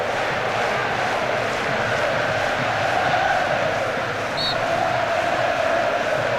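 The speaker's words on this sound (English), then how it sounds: "There's a thunderous sound reverberating around the stadium in Lens now." Roar of football supporters packed into the stadium in Lens during England versus Colombia at the 1998 World Cup, a dense, steady wall of crowd noise with chanting and cheering blending together, distant and reverberant.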